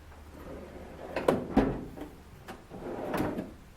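Drawer of a tool chest in a Snap-On, Cornwell and Craftsman tool box collection sliding open, a few soft metallic rolling scrapes and clunks at mid distance, fairly quiet with no talking.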